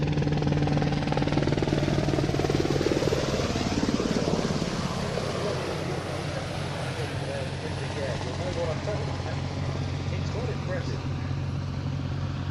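A former RAF helicopter hovering with a loud, steady rotor and engine roar that holds constant throughout, and a voice talking over the noise.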